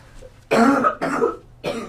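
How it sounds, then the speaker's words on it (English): Three harsh coughs in a row, close and loud, with short pauses between them and no talking. "I've been holding in my cough for so long"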